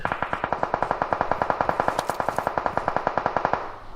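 Gunfire in a video game: one long, loud, close automatic burst of rapid, evenly spaced shots lasting about three and a half seconds before cutting off.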